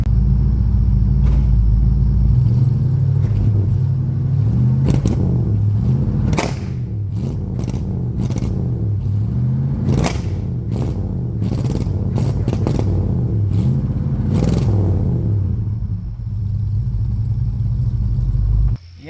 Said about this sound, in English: Yeah, we're definitely misfiring on a cylinder